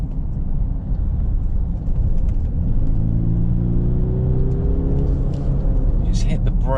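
A 2022 Genesis GV70 AWD diesel SUV takes a corner, its engine and tyre rumble loud and steady from inside the cabin, with a rising whir partway through and someone speaking briefly near the end.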